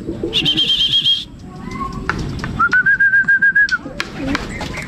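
Pigeons at a loft landing board, with bird calls and whistles, then a run of rhythmic wing flaps near the middle of the clip as they land, set against steady outdoor background noise.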